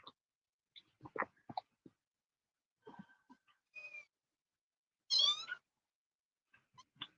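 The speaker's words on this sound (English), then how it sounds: "Looks like a kitty cat." New kitten gives a few short, faint mews and squeaks scattered among soft rustles, with one clearer rising meow near the end, all close and quiet.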